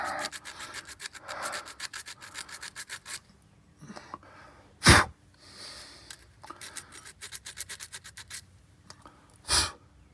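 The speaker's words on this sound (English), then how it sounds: "Don't use sandpaper on points." Sandpaper rubbing ignition points on a 1953 Dodge B4B truck, a quiet close scraping in quick repeated strokes, with pauses and two sharper bursts.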